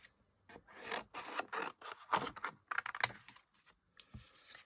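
Paper card being cut by hand for a handmade gymnast greeting card, a run of short close scraping snips and rasps in uneven bursts with brief pauses, no talking.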